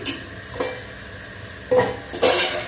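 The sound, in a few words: lid placed on a cooking pot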